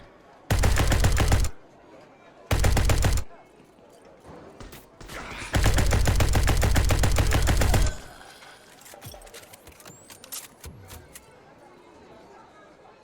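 Bursts of rapid automatic gunfire in SpaceBourne 2, in three loud blasts of differing length, the final one about two seconds long, followed by quieter clicks and sparse sounds.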